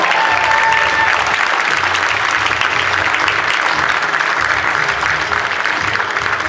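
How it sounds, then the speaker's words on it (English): Audience at a comedy hypnosis fundraiser show gives Joe a big round of applause, a loud, continuous crowd clapping that stays steady for several seconds with a faint voice briefly audible near the start. "Give a big round of applause for Joe."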